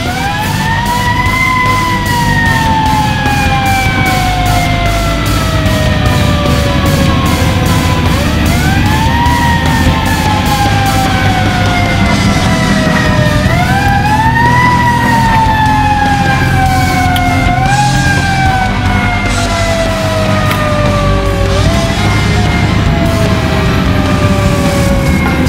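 A Washington DC fire engine siren wails loudly and continuously, rising and falling in long sweeps over a rumbling engine, close by, responding to an office building call.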